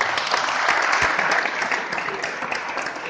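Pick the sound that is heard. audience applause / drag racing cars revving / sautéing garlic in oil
audience applause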